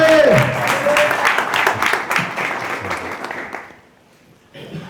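Audience applause welcoming a speaker at a Hindi Christian church gathering, loud and sustained for about three seconds before fading to near silence, then a brief faint return at the end.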